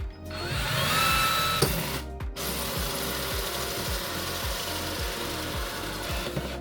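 A Ryobi cordless drill whirs briefly, then its clutch ratchets in a steady series of sharp mechanical clicks, close by and without talk.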